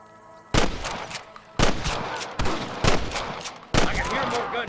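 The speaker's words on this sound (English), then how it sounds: "I can hear more gunshots." Gunfire from the Western video game Red Dead Redemption, with four loud, sharp bursts of shots spaced about a second apart and echoing rattles between them.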